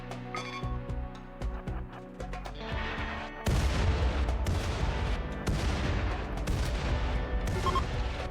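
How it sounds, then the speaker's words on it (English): Artillery salvo bombardment in RimWorld, a dense rumbling barrage of overlapping booms and blasts that suddenly swells loud partway through and keeps pounding continuously, preceded by lighter scattered pops. "so we'll just salvo this group away"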